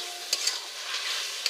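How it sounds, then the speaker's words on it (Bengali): Tomato, ginger and garlic sauté in a pan for a chicken curry, a soft steady sizzle with a few sharp scrapes of a spatula stirring, fairly quiet and without any talking. "এবার টমেটোটা দিয়ে দেব, আদা রসুনটা দিয়ে দেব, দিয়ে কষিয়ে নেব।"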